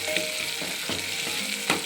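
Spices and seasoning sizzle in a hot pan for palak sambar, a dense steady frying hiss punctuated by soft clicks of stirring, close and alone.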